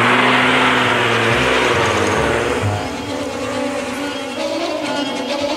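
A car pulls away with two thieves and their captives aboard, its engine revving loud and close, then settling into a steady driving hum that holds to the end.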